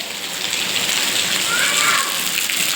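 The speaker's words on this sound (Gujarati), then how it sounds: "હાલ વરસાદ આવે છે બહુ" Heavy monsoon rain pouring down outdoors, a dense, continuous hiss of drops striking surfaces nearby, steady and loud for the whole stretch.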